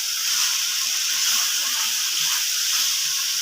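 Medium carrots cut into shapes frying in a pan for chicken fried rice, a steady soft hiss and sizzle that holds evenly throughout with no talk.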